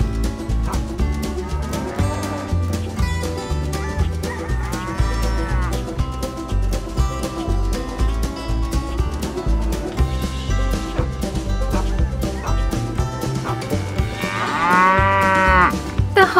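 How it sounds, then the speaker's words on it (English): A Holstein Friesian piebald dairy cow moos repeatedly, long loud nasal calls close by, with the last one strongest, and no talk over them. "Holstein Friesian piebald cow."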